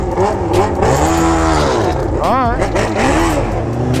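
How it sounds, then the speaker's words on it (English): A motorbike engine running rough like it is on three cylinders, loud and close, revving repeatedly with uneven rising and falling sweeps. "That thing sounds like it's running on like three cylinders!"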